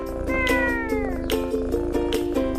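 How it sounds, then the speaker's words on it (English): A small kitten at a front door meows repeatedly, each clear, high and close, in a quick irregular run of calls. "Maggie heard a tiny meow at her front door"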